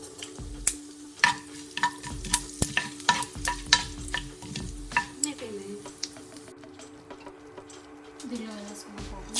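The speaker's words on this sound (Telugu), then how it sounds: "దీనిలో వేసుకున్నాం పోపు." A tempering for Andhra mango dal, with red chillies and asafoetida, sizzling in oil while a spoon scrapes and stirs in quick irregular strokes. It is close and clattery, and the stirring eases off toward the end.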